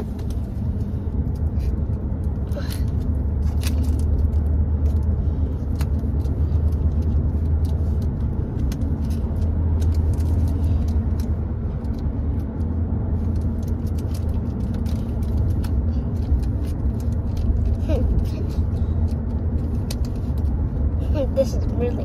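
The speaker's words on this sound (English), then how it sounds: "And as you can see, I'm in the car." Steady low engine and road rumble from inside a moving car, constant throughout with occasional light handling noises and rustling close by.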